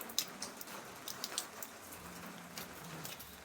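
Light rain patters and drips steadily nearby, with scattered sharper drops hitting a surface over a soft, continuous hiss.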